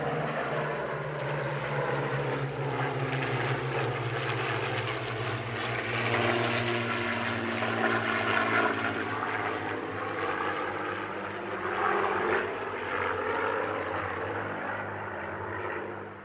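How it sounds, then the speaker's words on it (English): A P-40 warbird's propeller engine drones steadily overhead during a flying display, loud and sustained with slight swells in pitch and volume as the plane passes and maneuvers. "Two of the P-40s performed solo displays, a different one on each day."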